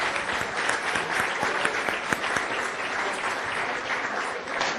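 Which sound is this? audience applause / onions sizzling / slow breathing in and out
audience applause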